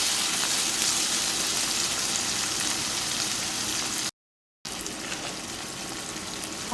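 Onions, tomato, green chillies and curry leaves sautéing in a pan for a mango fish curry, giving a steady soft sizzle with a brief break, close and fairly quiet, with no talking.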